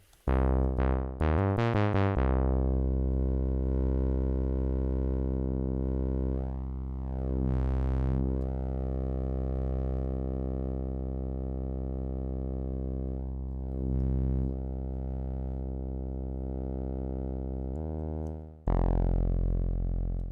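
A loud, buzzy Teenage Engineering OP-XY synthesizer tone with harsh distortion sustains throughout, with rapid stepped notes at the start and slow sweeping pitch bends later.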